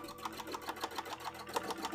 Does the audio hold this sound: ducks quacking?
no